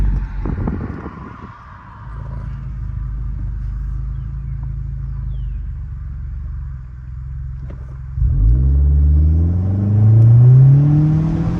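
Honda Accord 1.5T with a Stage 2 exhaust idles with a low, steady rumble, then launches hard from standstill in a 0 to 60 run, the exhaust note swelling loud and climbing in pitch through the gears, alone without talk.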